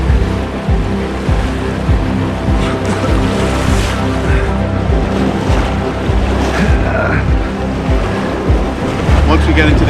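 River rapids rush around a canoe on a northern Manitoba wilderness trip, with loud, continuous churning water close by, turbulent splashes and some wind buffeting.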